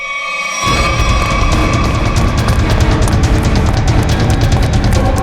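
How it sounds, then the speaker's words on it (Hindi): After a brief quiet moment, loud rapid gunfire erupts and keeps going in a dense, continuous volley. "ये गोलियों की आवाज।"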